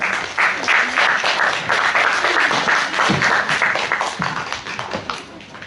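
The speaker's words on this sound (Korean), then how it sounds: "격려의 박수 부탁드립니다." Audience applause at a Korean student club speaking contest, steady dense clapping from a crowd filling the room, sustained loud throughout with slight fading toward the end.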